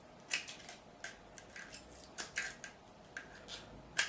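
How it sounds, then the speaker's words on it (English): Scissors snipping through strips of tape stuck on a Squier Classic Vibe Telecaster during a fret level and setup, a series of quiet, sharp, irregular cuts spread over a few seconds with no talking. "grab some scissors, just cut through each one"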